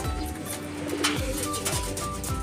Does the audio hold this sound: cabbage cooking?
no